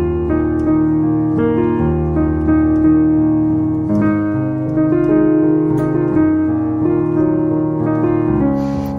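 Piano plays a song with emphasized dynamics, some notes stressed and others much softer, a steady flowing passage of chords and melody, close and fairly loud with no talking.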